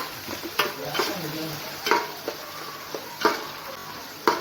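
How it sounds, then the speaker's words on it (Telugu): Onions and green chillies fry in a pan for a Nellore fish curry, a low steady sizzle with repeated spoon scrapes and knocks against the pan at close range. "కొంచెం ఎర్రగా వేయించుకుంటే ఉల్లిపాయలు."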